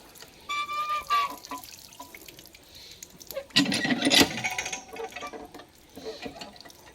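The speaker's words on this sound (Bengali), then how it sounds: "পাটা ধুয়ে নিচ্ছি টিউবওয়েল থেকে" A stone grinding slab is washed under water from a hand-pumped tube well, with uneven splashing and gushes of water, squeaks from the pump mechanism, and a louder surge of running water partway through.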